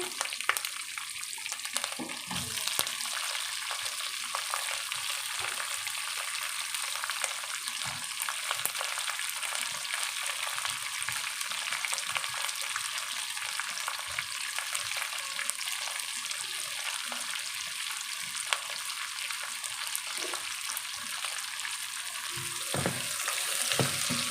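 Onions and green chillies fry in a pan for upma, a continuous bright sizzle with occasional soft stirring taps, steady and close for the whole stretch.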